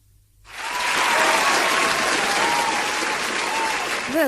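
Studio applause on a Hindi radio show, a dense burst of many clapping hands that starts abruptly after a brief quiet and holds loud and steady to the end.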